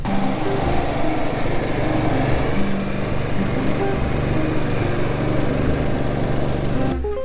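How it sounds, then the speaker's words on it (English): A motorhome's generator runs nearby, a steady, loud engine drone with an even mechanical chug throughout, with no voices. "because of the exhaust fumes from the generator, which gives the batteries a nice charge"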